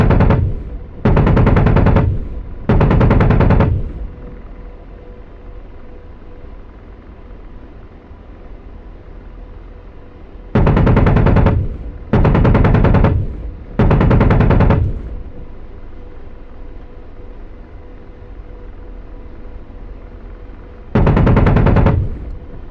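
Apache helicopter cannon in a video game fires in loud sustained bursts, two quick bursts, a pause, three more, then another after a long gap, over a constant low rotor drone.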